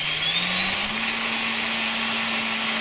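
Electric motor of an E-Flite A6M5 Zero 300 RC plane runs close and loud as a steady high whine, its pitch stepping up slightly near the start and then holding constant, with no talk.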